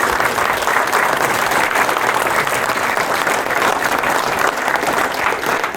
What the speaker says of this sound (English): Can we get a round of applause for Phil?